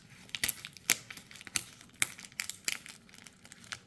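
A paper envelope holding a drawing is opened carefully, with soft crinkling and small tearing rustles in irregular bursts, close and quiet.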